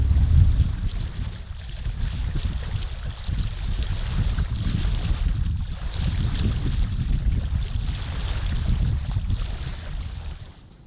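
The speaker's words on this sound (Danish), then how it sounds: "Vi har sat ginakkeren, fordi at vinden er med, og så er det et fantastisk sejl for" A sailboat running downwind under a gennaker, with a steady low rush of water along the hull and gusting wind buffeting the microphone throughout, with no one speaking.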